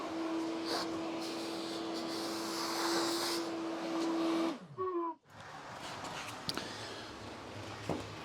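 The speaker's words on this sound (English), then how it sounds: "Vacuum." A steady whirring vacuum cleaner motor drones close by for several seconds, then cuts off abruptly, leaving a quieter room with faint rustling.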